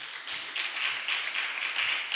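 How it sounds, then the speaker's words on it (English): A worshipping church audience gives a hand clap of praise, an irregular spread of overlapping claps at moderate level with faint low thuds underneath and no talking. "Give the Lord a hand clap of praise"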